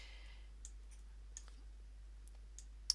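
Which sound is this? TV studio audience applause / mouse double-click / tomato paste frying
mouse double-click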